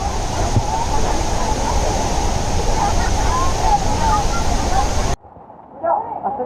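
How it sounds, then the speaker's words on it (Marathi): Steady, loud roar of rushing water from a big waterfall fills most of the clip, then cuts off abruptly to quieter background. "मोठा धबधबा आहे डबा हो"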